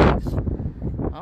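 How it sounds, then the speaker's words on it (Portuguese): Wind buffets the microphone during a snowy outing, a loud, rough rumble under a person speaking. "Aqui bateu o vento."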